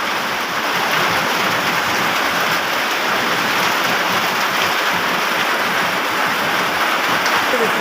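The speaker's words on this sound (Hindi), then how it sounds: "बहुत सख्त बारिश हो रही है।" Heavy rain pouring steadily, a dense continuous hiss and patter with no letup, loud and close.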